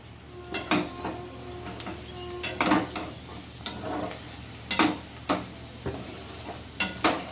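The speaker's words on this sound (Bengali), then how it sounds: "দেখো মোটামুটি মশলাটা আমার কষানো হয়ে এসছে" Spice paste sizzling in a pan while a spoon scrapes and stirs it in repeated strokes, with occasional clinks against the metal and a steady low hum beneath; close and fairly loud, no talking.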